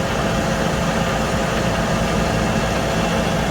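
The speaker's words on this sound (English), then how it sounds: "the tractor is rolling backwards ever so slowly" A tractor engine idles steadily in neutral while the machine rolls slowly backwards, pulled by a grain bag, giving a dense, even low rumble throughout with no voices.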